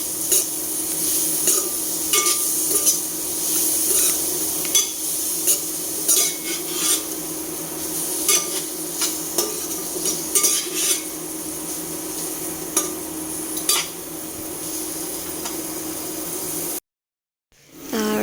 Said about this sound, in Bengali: এখানে দিয়ে দেবো হলুদ গুঁড়ো দিয়ে ভালোভাবে মিশিয়ে নিচ্ছি